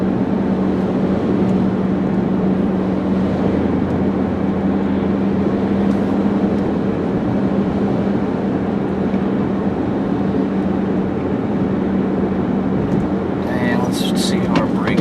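A black 2010 Nissan Sentra SE-R Spec V six-speed sedan cruises at 50 mph, giving a steady, even road and engine drone from inside the cabin that holds level throughout, with a brief light rattle near the end.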